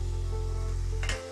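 Bitter gourd masala sautéing in a pan with turmeric and salt, giving a steady close sizzle and frying crackle that drops away sharply near the end, with no talk.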